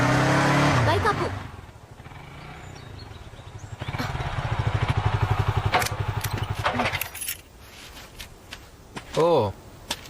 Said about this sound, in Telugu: బైక్ ఆపు.